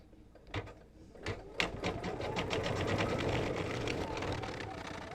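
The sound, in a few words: embroidery sewing machine stitching the word boo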